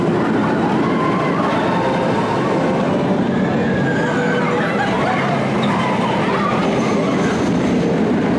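The Riddler Revenge stand-up roller coaster train at Six Flags New England rumbles along its track with a loud, continuous roar and rattling wheels, with faint squeals rising over the din.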